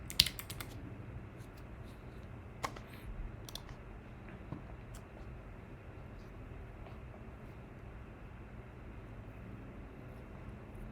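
Scattered faint keystrokes tap on a computer keyboard, clustered near the start and at a few later moments, over a low steady background hum.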